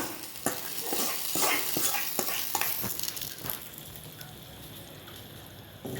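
Tempering poured into manathakkali greens kadaiyal sets off a loud burst of sizzling with quick stirring clatter, then eases back to a quieter, steady bubbling hiss.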